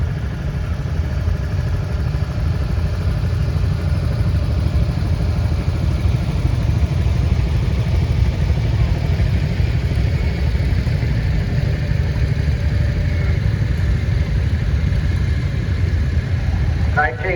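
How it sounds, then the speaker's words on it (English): Ford 8N tractor engine running during a tractor parade at a pioneer steam and gas engine society show, a steady loud mid-pitched chug with clatter that continues without a break throughout. "Ford 8N, owned and operated by Sam Peters of Waterford."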